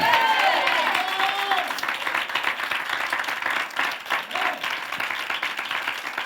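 A church congregation applauds at a Sunday morning service: dense, sustained clapping from many hands that gradually thins out, with a voice heard briefly at the start.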